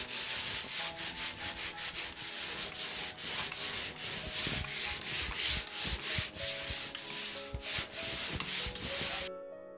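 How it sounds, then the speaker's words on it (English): Steady abrasive scraping of a pole sander worked back and forth across a wall in repeated rhythmic strokes, close and continuous, with no talking. "This pole sander would probably be ideal for this particular job."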